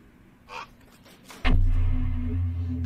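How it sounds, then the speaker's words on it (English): In The Caregiver horror game, a crow gives a brief caw, followed by a sudden loud low rumble that swells up and holds steady beneath it. "Oh, a crow."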